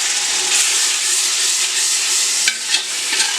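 Masala roasting in oil for a mixed mutton, chicken and fish curry produces a steady, close hiss of sizzling, with a few sharper scraping stirs near the end.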